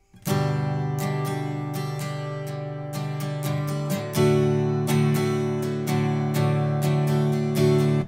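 Steady acoustic guitar chords strummed near the neck in a rhythmic pattern, warm and full, each stroke ringing into the next; no voices.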